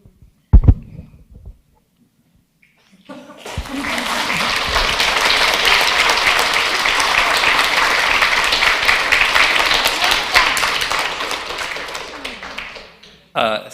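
An audience claps in council chambers during a special council meeting, the applause rising after a couple of isolated thumps and holding as a loud, dense wash for about nine seconds before fading out.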